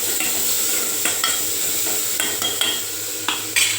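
Onion, tomato and curry leaves sautéing in oil in a pan, a constant bright sizzle punctuated by sharp scraping stir strokes and occasional clicks of a spoon against the metal.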